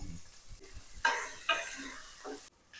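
Medium-sized tomatoes dropped onto well-fried onions set off a sharp burst of sizzling, with stirring scrapes and a second hiss that fade before a brief quiet end; no talking.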